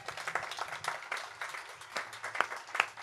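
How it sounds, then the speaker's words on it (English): An audience applauds a student jazz ensemble in a fairly quiet, distant burst of scattered hand claps with uneven rhythm, some individual claps standing out near the end. "Can we have another round of applause for these amazing students?"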